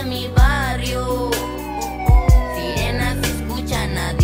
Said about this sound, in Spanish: sirenas se escuchan a diario.